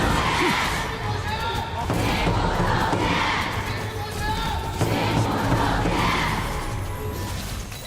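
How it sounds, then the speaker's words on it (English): A large crowd of fans roars and cheers continuously at a Honor of Kings esports match in the Challenger Cup knockout stage, a dense, loud wash of voices that swells and dips over several seconds. "we will hear the fans cheer for both teams as they look to take game number 2."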